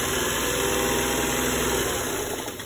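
An electric sewing machine stitches the side seam of a straight Pakistani salwar, giving a steady, close motor hum with a fine, fast rhythmic patter that runs without pause and with no talking.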